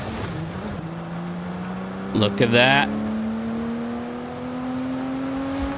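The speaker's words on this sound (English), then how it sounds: "I like how the car noise changes when you're inside." A sports car engine in Forza Horizon 5 heard from the cockpit, a steady muffled hum whose pitch climbs slowly as it accelerates, with a brief gear-shift blip midway and someone speaking briefly over it.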